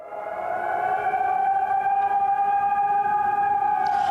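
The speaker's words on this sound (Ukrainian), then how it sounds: "Ось зараз також чуємо звуки повітряної тривоги" An air raid siren in Kharkiv, Ukraine wails in a long, steady rising tone, fairly loud and sustained, with no voices over it.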